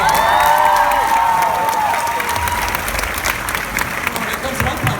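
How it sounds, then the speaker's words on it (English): Audience applause and cheering welcome a guest onto a comic convention panel, steady clapping from a large crowd throughout, with a voice speaking and whistling tones at the start. "Give Ed a big round of applause"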